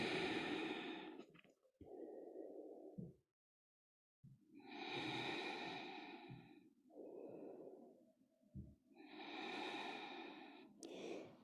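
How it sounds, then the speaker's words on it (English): Deep, slow breaths at rest during yoga relaxation: close, loud inhales and long airy exhales repeat in a steady cycle with a brief silent pause, and nothing else is heard. "3 deep breaths."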